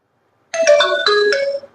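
A short electronic phone ringtone plays a bright melodic jingle of a few tones, loud and close, after a moment of silence, during a chemistry lecture.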